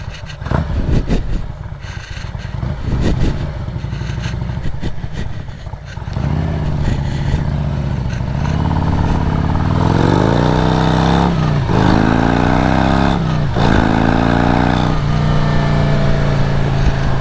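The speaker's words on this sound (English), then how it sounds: "Just ride a dirt bike through here." A dirt bike engine rides through grass, starting with rough low rumbling and then revving up in repeated rising pulls, loud and close, with no talk over it.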